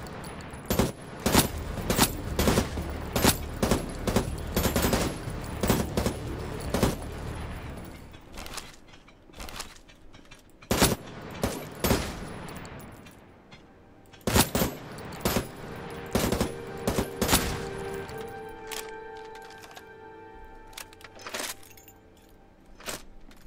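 Enemy gunfire in the sci-fi shooter game Moon Mystery: repeated sharp shot bursts crackle through the first half, then sparser single shots and mechanical clatter follow, loud and close, with no talking.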